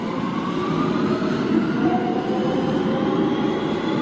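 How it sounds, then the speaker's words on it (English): Loud, steady rumble and rail screech of a subway train in motion, a continuous roar with faint high whining tones running through it and no voices. "Just another day in the life of taking the subway."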